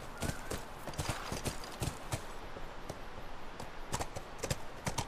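A horse in The Last of Us clip-clops at a steady trot, hoofbeats landing close and rhythmic, moderately loud against a quiet background.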